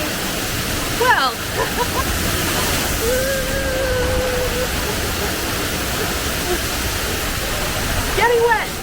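On a Tokyo DisneySea water ride, rushing, splashing water makes a steady broad roar throughout, with brief whistling squeals near the start and end, and a faint tone in the middle.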